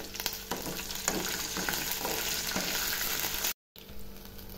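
Green chillies and peanuts frying in a pan with a little curry leaf give off a steady, moderately loud sizzle and crackle throughout, cut by a brief silent gap near the end.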